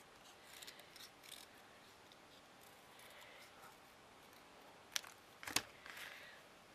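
Scissors snip a small circle by hand from paper for a tiger lily craft, quiet paper rustles leading to two sharp, close cuts near the end.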